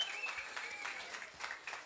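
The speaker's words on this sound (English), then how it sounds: "give him a round of applause." Audience applause at a boxing promotion weigh-in, a faint, distant patter of clapping from a small crowd, fairly even throughout a brief stretch.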